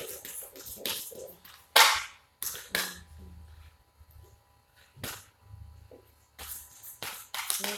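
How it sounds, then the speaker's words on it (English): Several tarot cards slip from a deck and slap down in a quick scatter of sharp, close flicks and taps, with soft rustling shuffles between the impacts. "So, few cards fell out of the deck."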